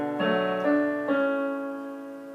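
A piano plays three soft chords from a quiet section, each held and slowly decaying, close and gentle with no voices.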